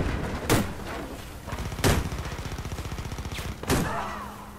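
Gunfire in the online shooter Warface during a ranked PvP round: three sharp shots spaced about a second and a half apart over a rapid, rattling background of continuous firing.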